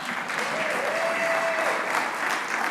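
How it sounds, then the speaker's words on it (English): Steady applause from a large audience at a National League of Cities address, loud and sustained throughout with no pauses. "And yes, you can applaud for that."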